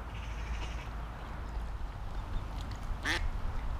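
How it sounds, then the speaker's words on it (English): A single raspy duck quack stands out near the end over a steady low rumble of background noise. "Quack, quack, quack."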